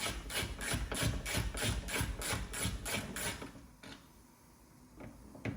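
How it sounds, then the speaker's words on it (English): Screws on an MG ZS car part are undone with a power tool, a close run of rapid regular ratcheting bursts that stops partway, leaving a few faint clicks and handling noises. "undoing the screws."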